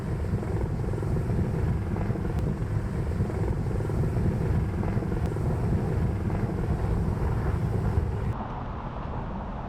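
A helicopter flies near a marina on the Gold Coast, its broad rotor and engine roar steady and loud for the whole stretch, blended with wind rumble, then dropping slightly near the end.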